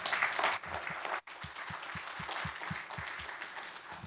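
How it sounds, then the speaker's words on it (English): An audience at an IEEE IoT startup night applauds its panelists. A dense burst of clapping cuts off sharply after about a second, then sparser, rhythmic individual claps continue. "a round of applause to our panelists"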